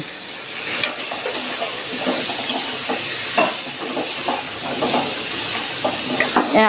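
Small crab legs sizzle in a hot pan with a little turmeric and salt. The hiss is dense and continuous, broken by short clatters as the pieces are stirred and tossed.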